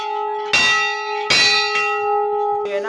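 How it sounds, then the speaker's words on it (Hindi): Hindu temple bells at a hilltop shrine struck by visitors, ringing close and loud with long sustained tones; two strong strikes, then lighter rings and a different bell near the end. "तो ये सब लोग चलाते हैं इस मंदिर पर घंटियाँ।"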